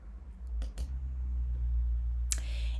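A single computer mouse click lands over a quiet background, followed by a brief faint tap.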